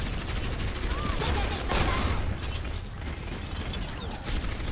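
Gunfire in the Overwatch video game, dense mechanical clicking bursts under continuous game noise, with a voice talking over it.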